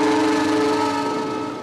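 A train locomotive's whistle blows one long, steady, loud blast at close range, holding a constant multi-tone pitch for the whole span with no talk over it.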